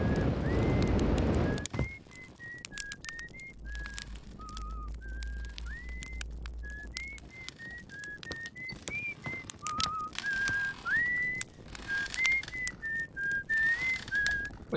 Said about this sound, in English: Wait, is he able to just whistle?